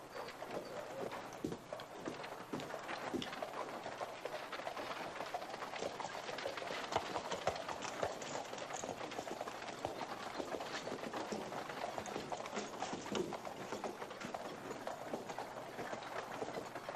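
Horses galloping in a western film, hooves drumming in a fast, continuous, distant-sounding beat mixed with faint noise, steady throughout and without voices.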